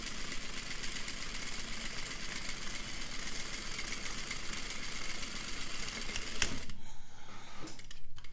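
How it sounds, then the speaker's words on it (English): A sewing machine sews a 3/4 inch seam in fabric, a fast, steady mechanical clatter running close and continuous before it cuts off near the end, leaving a brief quieter stretch. "So start your seam as usual, and just sew the seam."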